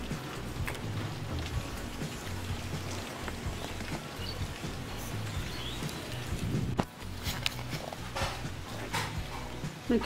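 Steady rain falls outdoors over waterlogged fields during a cyclone near Ranchi, India, a continuous hiss that fills the whole stretch. A dog whimpers faintly now and then.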